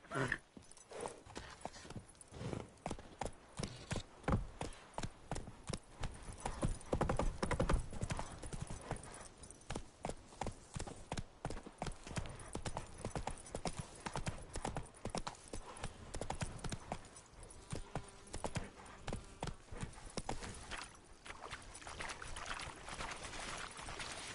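Horse hooves clip-clop steadily at a gallop in The Witcher Wild Hunt on PS5, a continuous rhythmic pounding with occasional voices and neighing, moderately loud throughout.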